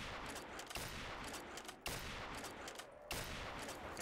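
A sniper rifle fires in a zombie mode of GTA V. Three sharp, quiet shots are spaced about a second apart over a faint hiss.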